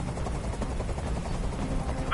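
A helicopter in the video game Detroit: Become Human gives a steady, loud rotor drone with low throbbing that fills the whole stretch, with no speech over it.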